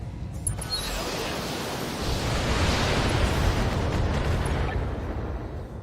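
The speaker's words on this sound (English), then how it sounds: "These missiles are really loud." Missiles firing in the BattleTech mech video game: a sustained, loud roaring blast of launches and explosions that swells slightly midway and holds steady throughout, with no talking.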